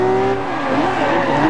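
Racing cars, a Bugatti and a Pagani among them, accelerating in the video game Forza Horizon 2: a loud, continuous engine roar with rising and sliding pitch as the cars speed up, with faint tire noise and no clear talk.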